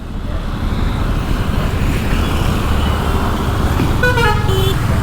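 Busy town-centre road traffic heard from a motorcycle, a constant loud engine and road rumble with several short car horn toots sounding near the end.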